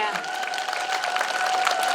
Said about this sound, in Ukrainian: Оплески Марії